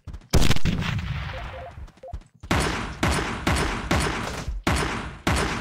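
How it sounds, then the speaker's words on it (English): Heavy automatic gunfire from auto pistol and heavy rifle in the top-down shooter Teleglitch, a loud close burst followed by a brief lull, then a string of rapid repeated volleys with short gaps, no talking. "let's go with auto pistol and heavy rifle"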